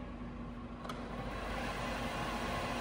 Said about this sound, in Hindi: We will be now showing the maximum spindle speed of this machine of 1670 rpm.